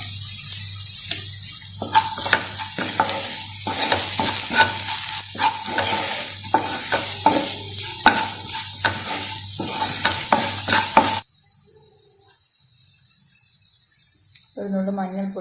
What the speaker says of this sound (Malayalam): ഇതെല്ലാം നമുക്കൊന്ന് ചെറുതായി വഴറ്റിയെടുക്കാം.